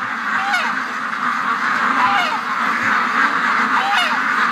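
Ducks call repeatedly outdoors, several short honking quacks scattered over a steady background hiss, moderately near and fairly loud, with no talking.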